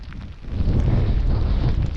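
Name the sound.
wind blowing during a storm on a mountain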